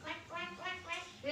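A voice imitates a duck, giving a quick run of four or five short, nasal quacks in steady rhythm, close and clear.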